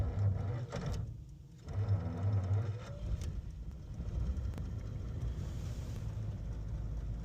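Vintage American luxury car engine cranks and catches, then settles into a very quiet, smooth idle with a soft steady hum, heard close with little else around.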